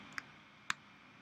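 Two faint, crisp computer mouse clicks, a quick light one followed about half a second later by a slightly stronger one, in a quiet room while working in Illustrator.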